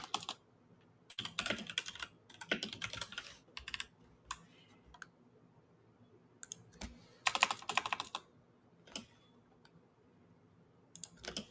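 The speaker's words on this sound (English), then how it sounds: "Typing it in right now" Bursts of computer keyboard typing, quick clusters of key clicks separated by pauses, close and fairly quiet in a still room.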